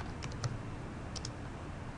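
Someone types on a computer keyboard, with light, fast key clicks over a steady background hum, close and fairly soft.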